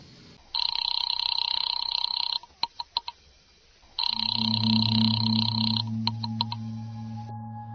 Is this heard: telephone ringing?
yes